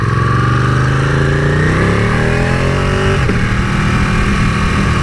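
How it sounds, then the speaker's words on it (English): A Ducati 899 motorcycle fitted with Termignoni exhaust pipes revs up close and loud, the engine note climbing steadily before dropping back, with no talking. "I've got the Termignoni pipes fitted, which just make it sound fantastic"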